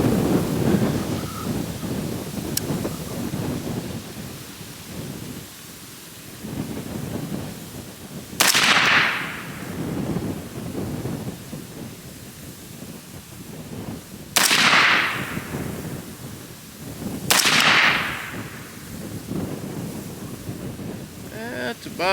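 Three loud, sharp rifle shots from an F1 Firearms FDR 350 Legend ring out a few seconds apart, each trailing a brief echo over steady outdoor wind noise.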